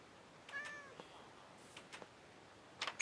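Cartoonish cat meows from a video game, a rising-falling meow near the start followed by a few short brighter squeaks and a burst of chatter-like noise at the end, moderately faint over a quiet background.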